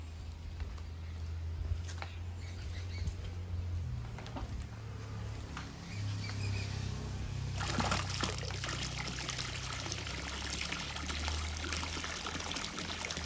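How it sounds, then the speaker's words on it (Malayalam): Water gushes from a 2-in-1 pump through a one-inch hose in a steady, splashing pour that grows louder and fuller about halfway through, with no one talking. "ഏതാണ്ട് ഒരു പതിനാറ് അടി മുകളിലേക്ക് വെള്ളം തള്ളും തള്ളും അത് ഒരിഞ്ച് ഓസിൽ വെള്ളം തള്ളും"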